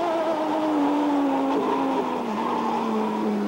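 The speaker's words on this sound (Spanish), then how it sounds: "Ahí va a comenzar a rebajar, escuche." A Turismo Carretera race car brakes hard into a corner, its engine note dropping in steps as it downshifts, heard loud and continuous from trackside with no voices over it.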